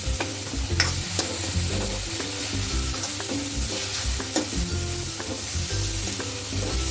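Onion and chillies sizzle steadily in a hot pan for a jackfruit curry, with recurring scrapes and clicks of stirring over a constant frying hiss; no one speaks.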